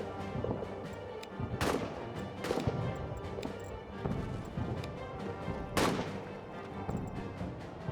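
Gunfire in a World War I trench warfare game crackles in scattered bursts, with two sharp, loud reports standing out among lighter, rapid shots and distant rumbling.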